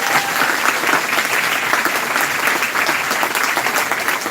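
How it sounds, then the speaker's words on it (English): Sustained applause from an audience fills the room, steady clapping with no pauses. "A big round of applause for Dan."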